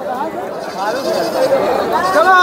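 Goats and young kids bleat repeatedly at a busy goat market, wavering cries layered over crowd chatter and nearby voices.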